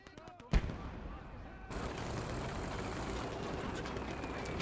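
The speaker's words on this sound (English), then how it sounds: "We have a mortar." Mortar fire in the WWII strategy game Gates of Hell, with one sharp heavy blast followed by a sustained rumbling barrage and crackle that fills the rest of the moment.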